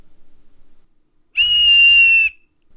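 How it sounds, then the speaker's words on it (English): A referee's whistle blown once on a football pitch, a single loud, sharp, clean blast lasting about a second against near silence. "The referee blew into his whistle as a sign to come together at the middle line of the football field."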